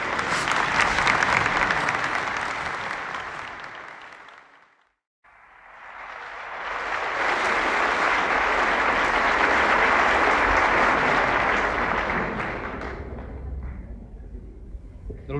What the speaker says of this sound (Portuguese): Meus senhores e minhas senhoras, de pé, uma salva de palmas a João Vilarejo